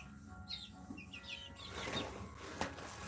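Mixed-breed laying hens cluck softly in short, scattered calls, with a sharper squawk near the end over a faint farmyard hum.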